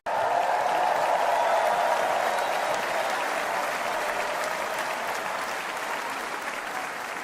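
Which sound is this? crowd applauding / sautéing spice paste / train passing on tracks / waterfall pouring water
crowd applauding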